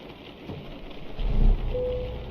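Steady rain patters over a truck's low rumbling engine drone in the American Truck Simulator video game, swelling louder midway, with a brief tonal hum near the end.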